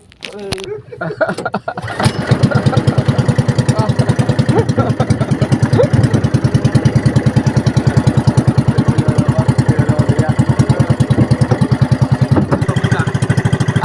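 After a brief rustle, a small fishing boat engine starts and runs loud and close, with a rapid steady chugging beat that continues to the end.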